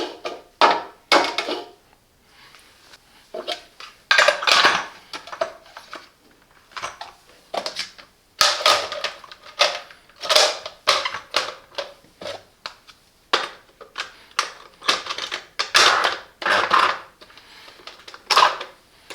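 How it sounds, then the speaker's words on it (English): Plastic parts of a Silvercrest SZP 25 D4 citrus juicer clatter and click as they are taken apart, with sharp knocks and rattles coming in irregular clusters, close and fairly loud, with no voices. "Easy to clean, remove all the parts."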